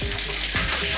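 Salmon-crusted seaweed wrap frying in a pan: a steady, close crackling sizzle of hot oil with faint low clatters, no talk.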